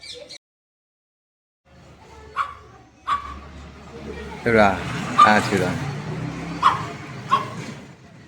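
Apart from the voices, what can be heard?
dog barking in the neighbourhood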